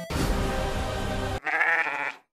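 Sheep bleats from the Mega Drive game Bible Adventures play as loud, synthesized tones, one sustained bleat that cuts off abruptly and is followed by a second, higher cry.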